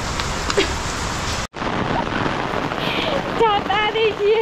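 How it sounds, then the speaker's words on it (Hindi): Rain pours down steadily in a dense, hissing wash, heard close by under an opened umbrella. The noise breaks off for an instant partway through, and a few bright warbling tones rise over the downpour near the end. "अभी बारिश हो रही है"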